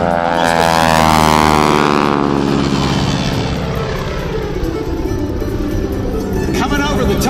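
Loud propeller engine roar of an aerobatic airplane performing at the 2018 NAS Jacksonville airshow, the pitch sliding downward as it passes, with an announcer talking over it.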